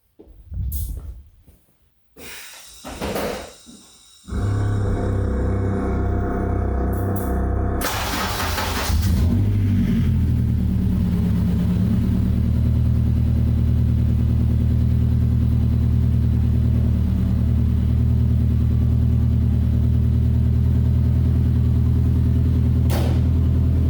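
A 1966 Ford F100 engine cranks and catches after a few sputtering attempts, then settles into a steady, loud idle rumble that runs on without pause.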